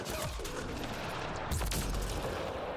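A heavy gun fires in the sci-fi shooter Mass Effect: Andromeda, a continuous loud barrage of shots with a sharper burst midway.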